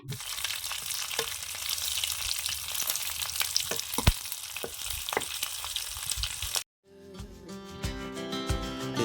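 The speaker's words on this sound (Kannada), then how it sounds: "ಒಗ್ಗರಣೆಗೆ ಬೇವಿನ ಸೊಪ್ಪು ಬೆಳ್ಳುಳ್ಳಿ ಹಾಗೆ ಒಣಮೆಣಸಿನ್ಕಾಯಿ ಜೀರಿಗೆ ಸಾಸಿವೆನ ಎಲ್ಲ ಹಾಕಿ ಇಲ್ಲಿ ಒಗ್ಗರಣೆಗೆ ರೆಡಿ ಮಾಡ್ಕೊಳ್ತಾ ಇದ್ವಿ" Neem leaves, garlic, dried chilli, cumin and mustard seeds hit hot oil for a sambar tempering, giving a loud, crackling sizzle with sharp pops for about six and a half seconds before it cuts off abruptly.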